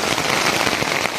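Heavy rain pounds a camping cot tent during a thunderstorm on a solo motocamping trip, a dense, steady close-up patter of drops with no gaps.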